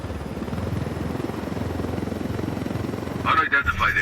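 A helicopter in the video game Ghost Recon Wildlands drones with a steady, close rotor thump throughout, and a voice crackles over it near the end.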